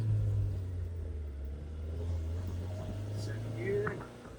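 Old barn-find Fiat car driven for the first time in 25 years, its engine rumbling steadily close by as it pulls away and accelerates through the gears, a low droning hum throughout with a brief rise in revs near the end.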